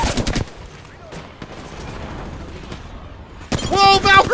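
Gunfire in the Apex Legends video game plays out as a stretch of rapid shots and low rumbling, framed by a player's voice talking at the start and end of the clip.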